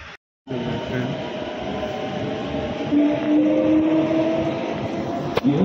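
Metro train riding, heard from inside the car as a steady loud rumble with a rising whine of the motors, and a brief gap near the start.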